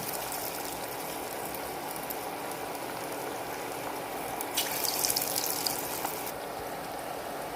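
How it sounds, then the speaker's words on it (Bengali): Chicken pakoras frying in hot oil, a steady dense crackle and hiss throughout, close by, swelling slightly louder midway as more pieces go in. "তেল গরম হয়ে গেছে, আমি এর মধ্যে পকোড়াগুলো আস্তে আস্তে আরেকটা করে ছেড়ে দেবো।"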